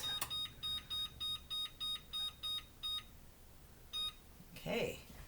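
A kitchen timer gives a run of about ten short, evenly spaced electronic beeps, then one more beep after a pause, followed by a brief clatter; faint in a quiet room.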